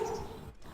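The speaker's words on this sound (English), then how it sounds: "that was a dog" Single short dog bark, faint and slightly distant, over a soft background hum.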